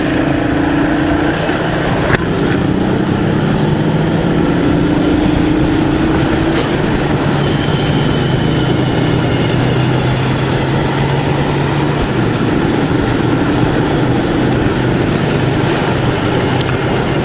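A 2015 Suzuki S40 Boulevard single-cylinder cruiser motorcycle being ridden: a steady engine drone with slowly rising and falling pitch through gear changes, heavy wind rush throughout, loud and close with no talking.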